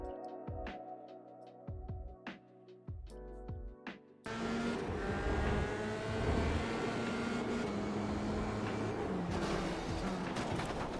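F3 race car engine in iRacing at the Hungaroring, sharp revving bursts and shifts at first, then a loud steady high-pitched engine drone with throttle changes.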